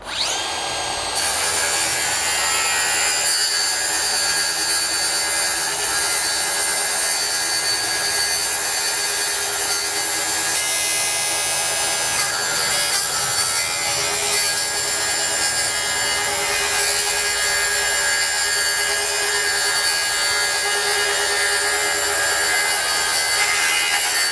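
Makita dustless circular saw cutting wood on its slow speed setting of about 5,000 RPM, a steady loud whine and grinding rasp of the blade through the board, continuous for the whole stretch with no talk.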